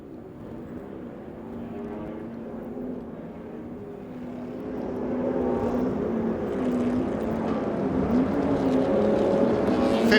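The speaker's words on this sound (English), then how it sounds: "50-minute race for these fabulous 1966 GT racers" 1966 GT race cars, Cobras and Jaguar E-Types, race in the Royal Automobile Club Tourist Trophy at Silverstone. A dense, steady engine drone from the field builds louder partway through, with no single car standing out.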